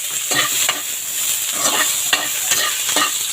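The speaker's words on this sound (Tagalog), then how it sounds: "We put the garlic, saute the garlic, and onion" Garlic and onion sauté in a pan with a bright, continuous sizzle, punctuated by regular scraping stirs close by and no talking.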